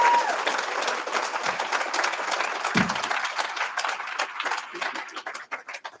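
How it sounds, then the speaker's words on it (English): Audience at a graduation ceremony for a prisoner reentry program breaks into sustained applause, a dense crowd of clapping hands with a few cheers, gradually thinning toward the end. "Can we give Chris a big,"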